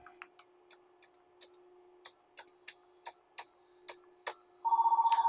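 An outside number being dialed on an AT&T Merlin office phone system, a run of evenly spaced clicks under a low steady hum, then a short rapid pulsing tone at the end.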